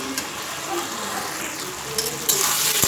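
Spice masala and mixed vegetables are stir-fried in a pan for a Bengali mourola fish dish with radhuni, making a steady close sizzle with light scraping and a brief clink near the end.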